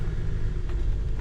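A motorhome driving slowly around a site in Portugal near Faro, heard from inside as a steady low engine and road rumble, loud and continuous, with no talk.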